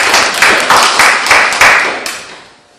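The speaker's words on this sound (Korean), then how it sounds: "박수 한번 쳐주세요" A small group claps at the end of a student presentation in a university Chinese department, several quick bursts of close clapping that trail away within about three seconds.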